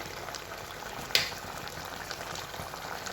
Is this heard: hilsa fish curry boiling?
yes